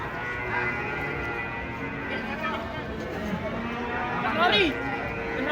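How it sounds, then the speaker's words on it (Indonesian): A cow just off a truck at a market moos repeatedly in long, drawn-out calls, with people talking nearby and steady outdoor background noise throughout. "Ini sapi nangisnya kayak gini ya."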